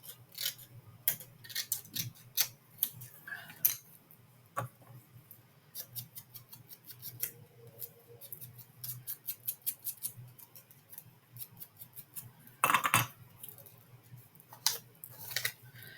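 Faint, sparse clicks and snips scattered over a quiet background, like small scissors cutting intermittently, with a brief louder rustle partway through.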